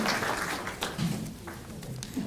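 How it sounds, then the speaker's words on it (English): An audience at an International Education Week opening ceremony applauds a mayor, a fairly faint, steady patter of clapping that runs through the whole short stretch with a few slightly louder bursts. "Let's give her a round of applause as she presents our mayoral proclamation"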